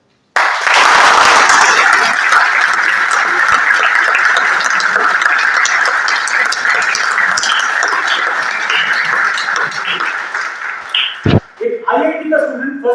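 Students at a college training and placement club session applaud loudly in a thick, sustained burst that lasts around eleven seconds and then cuts off sharply, followed by some brief voice and noise.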